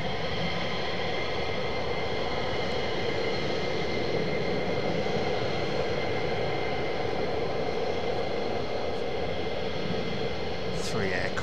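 Military jet aircraft at RAF Lakenheath give off a steady, distant engine roar that persists throughout, with a faint higher whine rising near the end.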